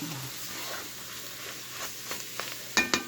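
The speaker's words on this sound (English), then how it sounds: "So we're going to stir this all up in here again." Spices being stirred into a fish stew or gumbo in a pot, with a soft steady sizzle and a few scraping spoon strokes toward the end, close and fairly quiet.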